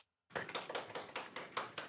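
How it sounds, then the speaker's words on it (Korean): An audience at a Torah portion lecture claps in welcome, a short, fairly faint run of regular beats starting after a moment of silence. "큰 박수로 맞아주시기 바랍니다"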